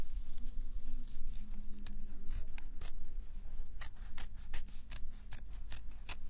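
Scissors snipping thread, a series of short crisp cuts, sparse at first and then quicker and more regular, close by.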